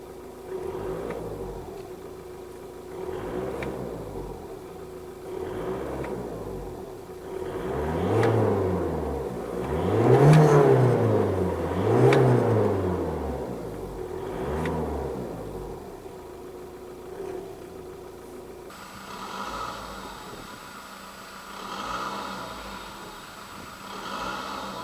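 A 2008 Audi A3 2.0 TDI 140 diesel engine running close by, idling with repeated swells of revving that rise and fall, then settling to a steadier hum near the end, with no talking.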